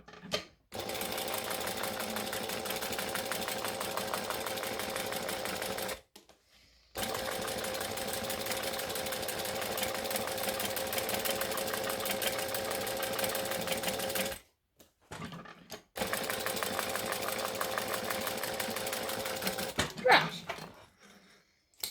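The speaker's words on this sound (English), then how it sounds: "to top stitch both sides of the flap before we add on the back piece" A sewing machine runs steadily, top stitching both sides of a fabric flap in three long continuous bursts separated by brief pauses, with a rapid, even mechanical whir close by.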